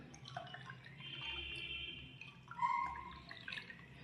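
Water poured into a nannari sharbat mix in a glass, a soft, faint trickle and gentle liquid splashing heard up close in a quiet room.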